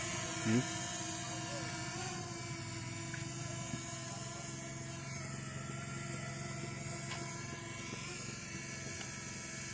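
Camera drone flying at a pier, a steady high-pitched whirring propeller hum held through the whole stretch at moderate level, with faint background noise and no clear talk over it.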